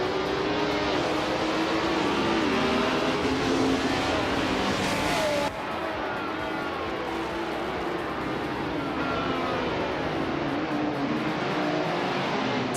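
Race cars in a racing game roar away from the starting line, engines revving hard and steady at high volume, a dense whining drone that shifts pitch as they accelerate.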